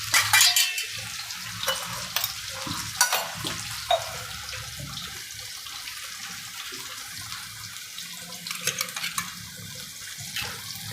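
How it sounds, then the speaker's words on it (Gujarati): Water is sprinkled onto spices frying in a pan while cooking a Gujarati stuffed drumstick curry, giving sharp splashy sizzles near the start, around three seconds and again near nine seconds over a steady low frying hiss, with no talking. "આપણા મસાલા ન બળે એના માટે પાણીનો છંટકાવ કરવાનો"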